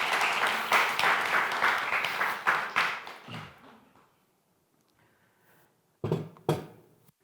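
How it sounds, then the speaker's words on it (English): An audience at a breathing and NLP workshop applauds a participant, a burst of clapping that fades out after about three seconds, followed by quiet and a couple of louder scattered claps. "first we're going to give Charlotte a round of applause."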